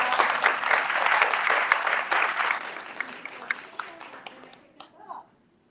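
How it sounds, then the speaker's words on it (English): Audience at a Tallahassee craft-brewing event gives a round of applause: dense clapping that thins out into scattered individual claps before dying away, with a brief murmur near the end. "So just have a round of applause."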